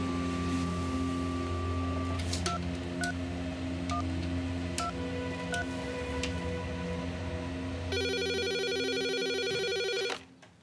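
A landline telephone on a newly connected exchange rings and beeps in a quiet room, with a few short tones over a low hum before a loud, continuous electronic ringing pattern takes over for the last few seconds.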